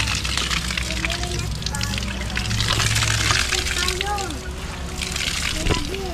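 Water gushes steadily from a newly drilled water-well pump, a loud, continuous splashing rush over a low engine hum, with people talking throughout.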